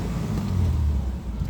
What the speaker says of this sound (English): So the car runs great.